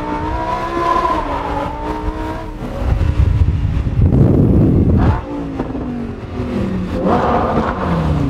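A Lamborghini with an aftermarket exhaust revs hard and close, its engine note climbing and falling in repeated sweeps with a rough burst in the middle as the exhaust crackles and pops.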